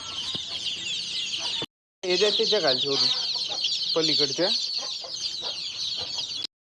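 Village chicks and hens cluck and peep steadily in a farmyard, with a short silent break and a person talking over them.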